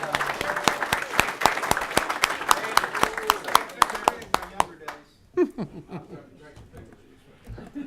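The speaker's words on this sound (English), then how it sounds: "Let's give them a round of applause for making it on this." At a packed legislative appropriations committee meeting on public safety, an indoor audience gives a round of applause for new members, with brisk clapping for about five seconds that fades out, followed by quiet talk.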